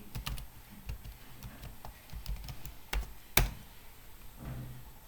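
Rapid keystrokes on a computer keyboard while a web search for Moz Academy is entered, an irregular run of light clicks close by with one sharper tap, no voices.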